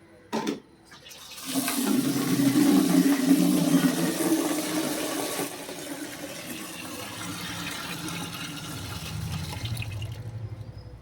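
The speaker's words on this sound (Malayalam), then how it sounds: "ഇതിൽ വെള്ളം നിറച്ചെടുക്കാം ബക്കറ്റില്." Water gushes steadily from a tap into a bucket, a loud rushing pour that eases slightly toward the end, with no voices.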